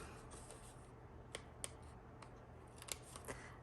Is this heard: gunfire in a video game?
no